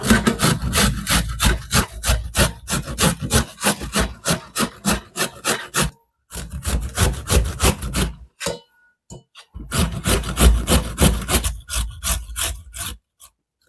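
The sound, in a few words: grating beetroot on a hand grater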